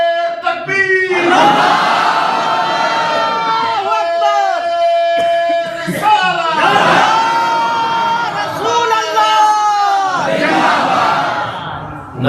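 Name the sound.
crowd shouting response to Takbir slogan in mosque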